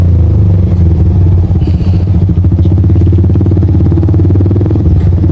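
A Honda CRF motorcycle rides by on a road with speed bumps, its engine a loud, close, continuous pulsing drone with some clatter, no talking.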